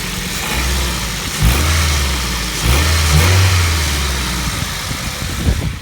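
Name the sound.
2004 Ford Focus ZX5 Zetec engine revving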